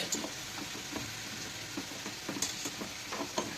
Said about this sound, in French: on mélange avec le robot